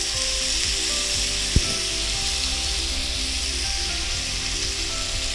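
Cut potatoes fry in a pan for a garlic potato masala, giving a steady, dense sizzle throughout with a single sharp clack of a utensil near the start and faint stirring knocks.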